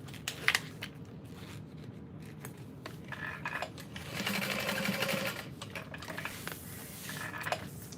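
A sewing machine stitches a tote bag at stitch length 4 in a steady run, speeding up in the middle stretch, with light clicks and clatter of handling around it.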